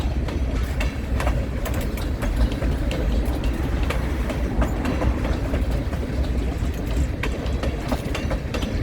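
A freight train hauling hydrochloric acid tank cars rolls past close by, a steady heavy rumble with rhythmic clickety-clack of wheels over rail joints and sharp metallic squeaks, with no talk.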